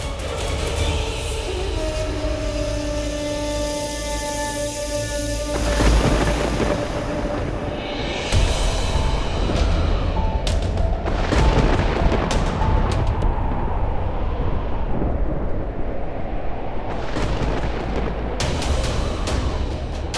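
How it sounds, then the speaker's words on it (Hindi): A dramatic storm roars with heavy rumbling and powerful gusting wind, loud and continuous, with crashing thunder-like booms and a swelling, layered sound throughout. "लगता है कोई तूफान आने वाला है।"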